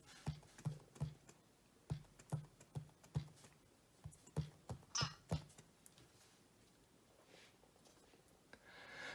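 Someone types a file name on a computer keyboard: a quick run of a dozen or so faint, crisp keystrokes in an uneven rhythm, then quiet.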